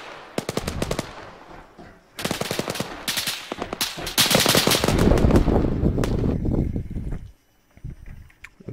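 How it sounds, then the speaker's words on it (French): Gunfire in a PvP video game, several loud bursts of rapid automatic fire broken by short pauses, swelling into a dense sustained volley before cutting off, with no talk. "on se fait tirer dessus"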